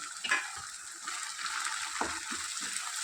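Ginger garlic paste and chopped tomato fry in a pan for a Kashmiri chicken masala curry, giving a steady close sizzle with a few soft stirring scrapes and no voices.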